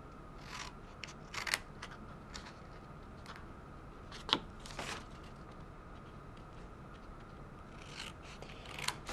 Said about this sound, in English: you just cut right on those score lines. Just like I'm doing here.